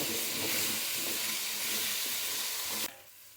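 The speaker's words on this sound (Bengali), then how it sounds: "অল্প হলুদ আর লবণ দিয়ে আলুটা ভেজে নেব।" Potato pieces fry in a pan with turmeric and salt, giving a steady, close sizzle with faint stirring scrapes that cuts off abruptly near the end, no voices present.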